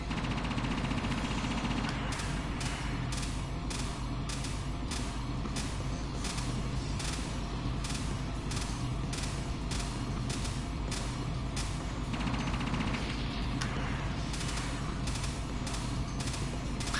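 Rapid bursts of gunfire and bullets in the game Assault Suits Leynos come as a steady, evenly spaced stream of sharp reports over a constant mechanical drone, with no talking.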